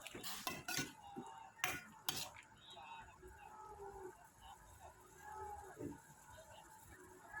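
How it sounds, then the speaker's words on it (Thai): A spoon stirs pork curry in a pot just after seasoning powder goes in, giving a few sharp scraping clinks near the start, then softer intermittent scrapes over quiet kitchen background. "ก็คนให้เข้ากันค่ะ"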